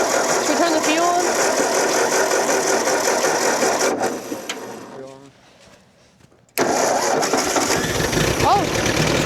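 A Ford 8N tractor's engine cranks and runs loud and close, then drops away into a quiet, sputtering lull before catching again with an abrupt return to full running noise. A voice talks during the clip.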